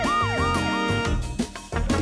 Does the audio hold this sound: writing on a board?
no